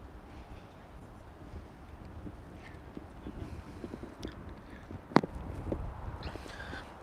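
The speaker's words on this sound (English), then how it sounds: "There's a lot of wind coming at me." Steady wind buffeting a microphone near a trailhead, a low rumbling roar throughout with occasional gusts and faint distant sounds.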